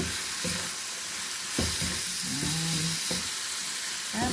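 Carrot stirred in a hot frying pan over a steady loud sizzle, with a spatula scraping and clinking against the pan several times, close and without speech.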